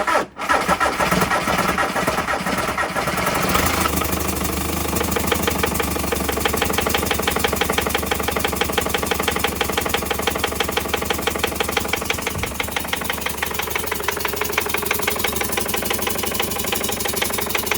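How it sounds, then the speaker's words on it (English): A TDI diesel engine with a freshly fixed injection pump cranks and fires, then idles loudly and roughly close by with a steady rapid clatter, its low idle sounding uneven throughout. "I'm gonna attempt to start this thing and see if it leaks"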